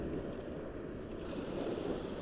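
Waves wash on open water in a soft, continuous, fairly faint rush, with some wind noise on the microphone and no voices.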